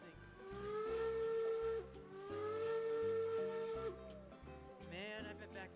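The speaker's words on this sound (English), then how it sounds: "Let's hear what your whistle sounds like." A steam locomotive whistle in the video game RailroadsOnline blows in two long, steady chords, each held for about two seconds, sounding moderately close over a low rumbling background.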